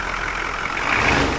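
A non-turbo diesel engine swapped into a car, formerly gas-powered, runs steadily at idle with a coarse, bus-like drone, growing slightly louder toward the end, with no voices.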